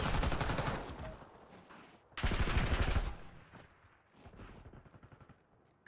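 Rapid automatic gunfire from a Call of Duty Black Ops 6 gunfight comes in two loud sustained bursts, followed by lighter scattered shots and movement.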